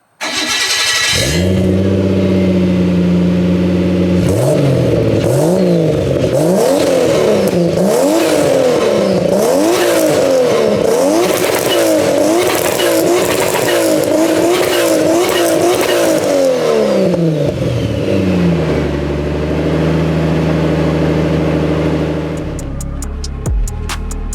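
A car from a personal collection fires up and revs hard several times in quick, rising and falling bursts, loud and close, then drops to a steady idle before cutting off.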